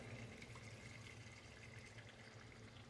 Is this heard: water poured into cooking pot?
yes